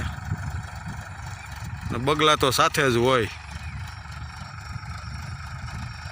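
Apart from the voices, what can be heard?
tractor engine running on a farm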